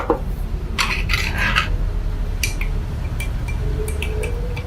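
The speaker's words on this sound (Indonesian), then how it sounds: "Oke, baru kita aduk dulu, Nars." A spoon stirring coffee in a cup, with quick bursts of bright metallic clinks against the rim over a steady low background hum, fairly close.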